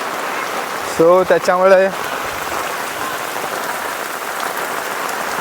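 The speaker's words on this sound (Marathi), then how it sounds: "आज एवढा तुफान पाऊस पडतोय ना" Heavy monsoon downpour in the Konkan countryside near a swollen river and rice fields, a dense steady hiss of rain on surfaces throughout, with someone speaking briefly near the start.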